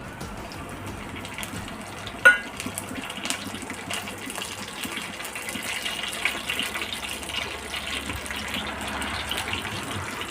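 Cumin, mustard seeds and curry leaves hit hot oil as tempering for a masala capsicum dish, giving a steady rushing sizzle with a sharp pop early on and faint crackles throughout; no one speaks.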